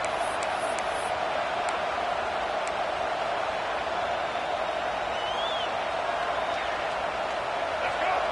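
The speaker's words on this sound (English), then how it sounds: "This crowd going to try to make life miserable for these guys." A football stadium crowd roars in a steady, dense wash of distant cheering and noise that continues throughout, with a few sharp whistles near the start.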